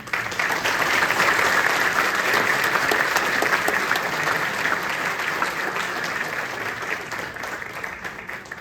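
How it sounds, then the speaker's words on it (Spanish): Sustained applause from an audience at a forum in Puebla, dense and steady for the whole stretch, easing slightly toward the end, with no talk over it. "Nuevamente el aplauso para el maestro Darío"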